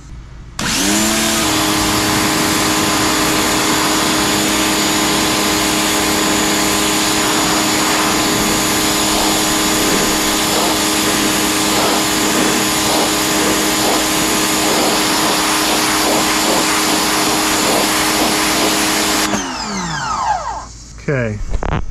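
An AIVolt electric pressure washer runs with a loud, constant motor whine and hiss that builds pressure, then shuts off near the end, leaving brief handling noises.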